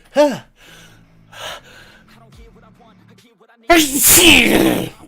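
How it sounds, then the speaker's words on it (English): A sharp gasping intake of breath, then a loud, forceful sneeze burst near the end, close up, with faint breathy sounds in between. "that made me sneeze"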